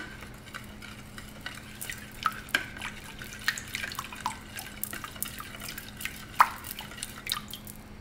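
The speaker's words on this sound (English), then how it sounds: "And I'm just gonna stir mine again." Water is stirred in a bowl, producing soft irregular drips and small liquid clinks in a quiet room. A faint steady hum sits underneath, and no one speaks.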